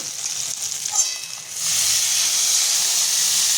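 Water poured into a hot pan of fried fish curry masala bursts into a sudden loud, sustained hissing sizzle after a quieter frying start, close and steady, with no voices.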